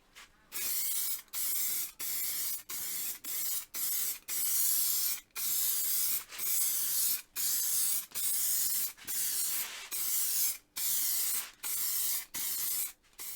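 Lacquer finish is sprayed in repeated passes, with a loud, close hiss for each stroke lasting about a second and separated by brief silences in a steady rhythm.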